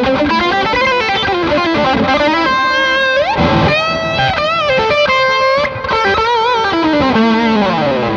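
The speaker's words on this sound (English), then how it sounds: "turning the gain up full, as I like to do, putting some delay and reverb on, and having a bit of a wang" Electric guitar played through a Bad Cat Siamese Drive pedal with the gain turned up full, plus delay and reverb, giving loud, continuous distorted lead lines and chords that sustain and swell without pause, with no voices.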